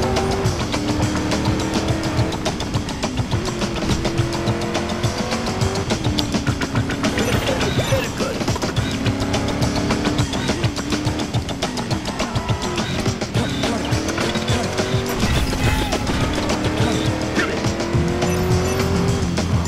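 Car in the racing video game Driver San Francisco accelerating hard with continuous tire squeal and skidding, a loud, steady engine roar filling the whole stretch alongside game music.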